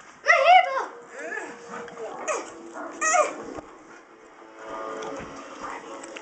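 A puppy whimpers close by in short, high-pitched cries and little yips, spaced irregularly over a quiet background.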